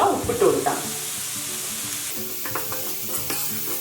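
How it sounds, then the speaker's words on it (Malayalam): Vegetables for fried rice sauté over a high flame, a loud burst of sizzling and tossing at first, then a quieter steady fry with light scraping stirs. "ഫ്ലെയിമിൽ ഇട്ടിട്ട് തന്നെയാണ് ഞാനിത് വഴറ്റിയെടുക്കുന്നത്."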